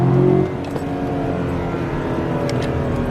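A 2016 Chevy Silverado pickup engine fitted with a cold air intake revs up and accelerates with a throaty intake roar, steady and close, with no talking.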